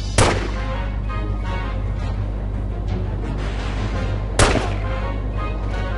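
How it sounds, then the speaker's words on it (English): Two loud, sharp pistol shots ring out in The Godfather PC game, about four seconds apart, over a steady low rumble of game ambience. "Pistol got decent range."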